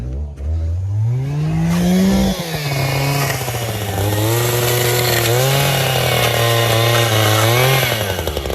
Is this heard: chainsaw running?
yes